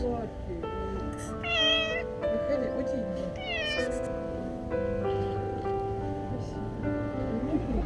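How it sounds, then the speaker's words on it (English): A trapped cat meows repeatedly behind a window, loud and plaintive, with rising and falling cries over a noisy, rumbling background. "The cat was crying for help"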